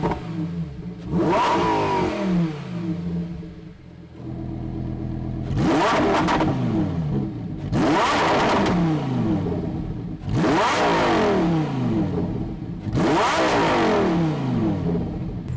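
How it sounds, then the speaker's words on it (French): A car fitted with a valve module controller revs in place: four loud, close throttle blips rise and fall one after another, with idle rumble between them. "je vais faire quelques revs sur place"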